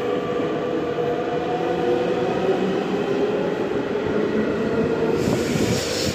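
A Metra commuter train rumbles steadily nearby at Homewood station with a continuous mechanical drone and faint rail squeal, no voices.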